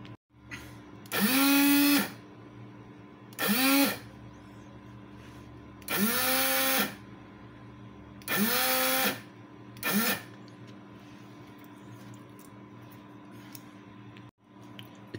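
Small 12V DC motor running in five separate short bursts as buttons reverse its direction, each a close, steady whine with a brief spin-up, separated by quiet pauses.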